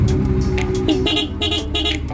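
A loud rapid dual-contact vehicle horn honks in short repeated blasts over a running engine rumble, close by.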